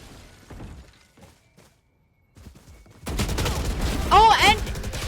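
Gunfire from a competitive video game match erupts in a loud burst of rapid shots and impacts after a quieter stretch with soft game sounds, with a commentator talking over it.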